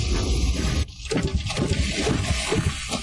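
Water gushes and splashes from a pump built of broken copper and old iron, a loud continuous rushing flow with a brief dip near one second, close and without talk.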